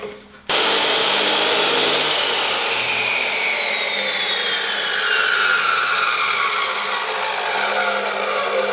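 A power cutting tool slices into a drive shaft as it is rotated, giving a loud, continuous close grinding whine that starts abruptly and holds steady with a slowly shifting pitch.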